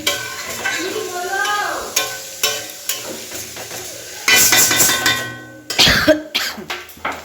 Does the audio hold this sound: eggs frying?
yes